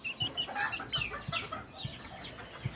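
A bantam chicken clucks in short, repeated bursts at close range, with a few quiet low thumps between the calls and no speech.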